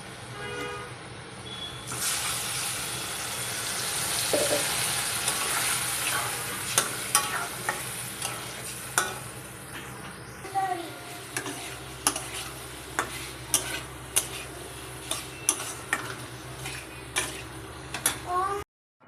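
Taro pieces frying red in a pan for a fresh fish curry, a steady broad sizzle running throughout with repeated sharp clicks and scrapes of stirring growing more frequent toward the end.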